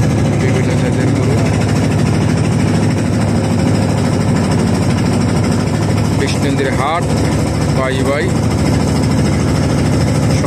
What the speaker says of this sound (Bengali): আমাদের ট্রলার ছেড়ে দিচ্ছে মেঘনা নদী